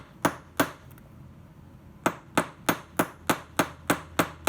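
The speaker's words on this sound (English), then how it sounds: "use a riveting hammer and bench plate to stretch the cones the rest of the way down to the surface of your" Riveting hammer striking a tube rivet on a steel bench plate, a series of sharp close metallic taps: two blows, a pause, then eight evenly spaced strikes in steady rhythm.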